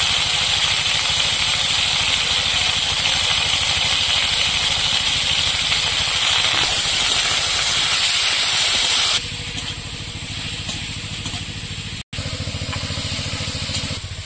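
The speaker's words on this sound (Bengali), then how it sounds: "বেগুনটা ভাজা করে নিচ্ছি, আপনারা চাইলে ভাজা করে নিতে পারেন" Potato and eggplant pieces frying lightly in oil for a village-style Bengali vegetable dish, a steady close hiss that drops to a quieter, thinner sizzle partway through.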